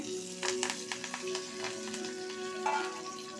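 Curry leaves crackle and sizzle in hot oil with a pinch of asafoetida and turmeric for a vada pav filling, a steady close frying hiss with bursts of sharper pops.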